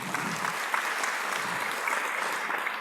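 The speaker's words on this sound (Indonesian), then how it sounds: "Tepuk tangan semua teman-teman." Steady applause from an audience at an Indonesian motivational talk on stage, a dense even wash of clapping sustained for a few seconds at moderate level without speech.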